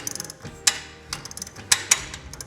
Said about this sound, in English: So we'll just use a socket wrench here, and we will start rotating.